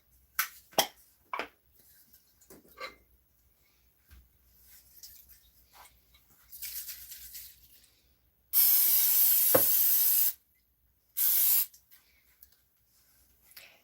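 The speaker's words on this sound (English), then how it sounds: "I'm going to go ahead and spray my 2 glass dishes." Cooking spray hissing onto two glass baking dishes held over a kitchen sink, two loud sustained bursts, the first about two seconds and the second shorter, with quieter handling clatter before.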